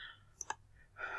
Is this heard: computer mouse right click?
yes